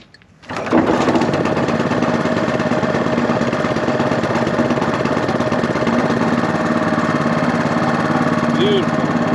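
A small gasoline engine, choke and fuel on, catches after a brief start and then runs loud and steady close by, a continuous buzzing drone lasting nearly ten seconds.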